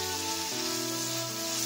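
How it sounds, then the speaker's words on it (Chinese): Carrots and mushrooms stir-frying in a wok give off a steady, close sizzle with soft stirring, while gentle background music plays underneath. "倒入胡萝卜，加入适量的盐，来点生抽，少许的蚝油，先给它翻拌一下。"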